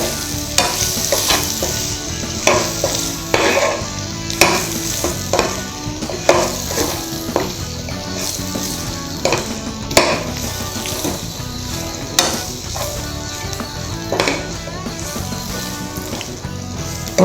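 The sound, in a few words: stirring fried chicken 65 in a pan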